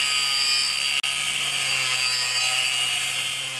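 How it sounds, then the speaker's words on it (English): A sliver is cut from steel angle iron: a loud, steady, harsh cutting roar runs the whole time, broken only by one very brief gap near the start. "now I'm just going to cut a sliver out of the angle iron for that"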